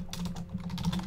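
Quick, steady tapping on a computer keyboard, close and fairly quiet, with rapid clicky keystrokes over a low hum and no talking.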